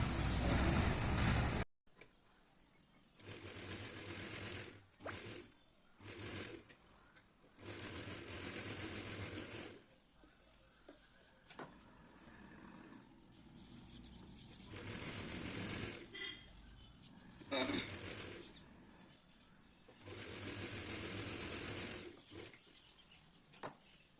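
A sewing machine stitches the side seams of boys' shorts in repeated bursts, loud and close, each run of stitching broken by short quiet pauses.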